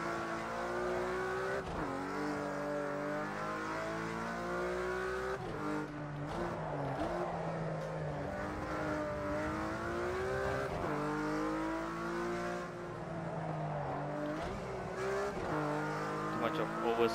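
A Porsche 911 GT3 RS running untuned in the racing game Project CARS 2, its engine revving and rising and falling through gear changes with tire squeal under oversteer, loud and continuous, with a voice talking over it.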